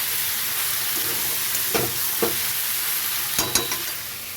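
Spiced chorchori vegetables with ginger paste and turmeric sauté in a pan, a steady close sizzle broken by a few sharp spatula scrapes and stirs.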